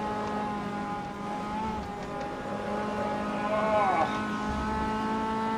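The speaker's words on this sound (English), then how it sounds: "Really struggling, really fighting this car through the corners now." Race car engine in the racing game MCR 2000, a continuous buzzing drone with steady harmonic tones that shift in pitch through cornering, rising and sweeping around the middle, loud and close throughout.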